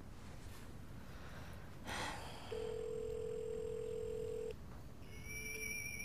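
Phone line ringing out on a call that ends at voicemail: a steady electronic ring tone holds for about two seconds mid-clip over low background hiss, and a faint second tone begins near the end.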